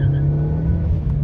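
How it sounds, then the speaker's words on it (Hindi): A Suzuki Swift with the Dual Jet petrol engine revs hard while stationary in first gear, a loud, steady engine drone held close throughout with no talking. "ये फर्स्ट गियर पे लगा दिया, देन रेव द इंजन"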